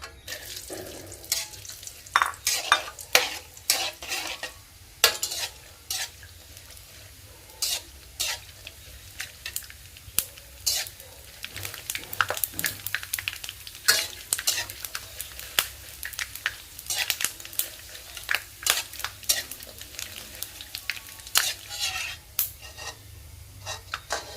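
Pork rinds deep-frying a second time in hot oil, giving a steady crackling sizzle with frequent sharp pops and scrapes of stirring throughout, fairly close and with no talking.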